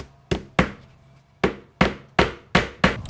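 Seven sharp hammer blows strike a mold being fixed in place for a DIY wall-hanging water feature, coming in an uneven rhythm of close, loud, wooden knocks with short pauses between them.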